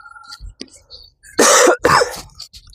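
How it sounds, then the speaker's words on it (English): Two harsh coughs in quick succession, close and loud, breaking a mostly quiet moment with faint rustling. "Granted, you're going to get to hear me cough."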